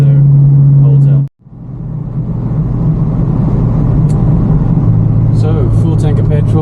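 A classic car with a full tank drives along a country road, its engine giving a steady low rumble close to the microphone; a brief dropout breaks the sound before the drone resumes and holds evenly to the end.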